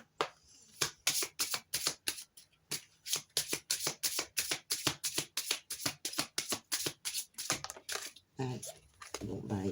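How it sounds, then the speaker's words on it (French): A deck of oracle cards is shuffled again and again at close range, with fast regular riffling slaps in a long rhythmic run that ends in a few looser, softer rustles. "Je vais encore faire du bruit avec les cartes"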